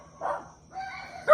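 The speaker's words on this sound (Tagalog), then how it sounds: "Dami aso dito oh" Two short barks from a dog on a street, close by and moderately loud with a pause between them, and another sharp yelp at the very end.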